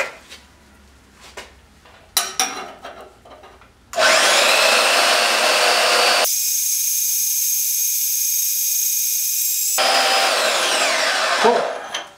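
A power tool cuts through 1/8 inch thick metal flat bar, a loud, steady, high-pitched grinding whine that starts abruptly after a few quieter clicks and handling noises and runs for about seven seconds before winding down.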